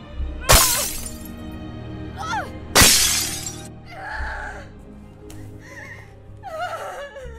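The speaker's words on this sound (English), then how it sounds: "I thought I was supposed to throw the bottle at the glass." Glass shattering twice in the video game Remothered: Broken Porcelain, two loud sharp crashes of breaking glass a couple of seconds apart, followed by quieter clinks, creaks and game sounds.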